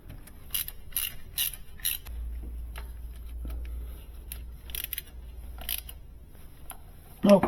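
Bolts being tightened during fuel injector service on a Scion iQ: quiet intermittent metallic clicks and ratcheting ticks in short clusters, with a low hum and a louder clunk at the end.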